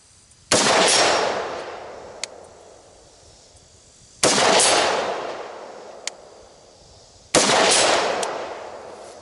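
Three rifle shots fired at a target, each a sharp loud crack followed by a long rolling echo that fades out, spaced a few seconds apart, with faint clicks between them.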